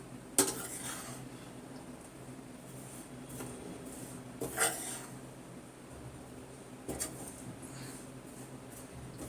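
A heavy, thick sweet mixture scraped from a vessel into a pan with a spatula, giving a few sharp metallic clinks and scrapes over a quiet kitchen background.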